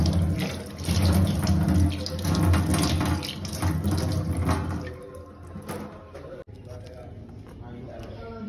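A kitchen tap runs hard for about five seconds while hands are rinsed clean of fish-mixed rice, then the flow cuts off, leaving quieter dripping and movement, with a voice speaking over it.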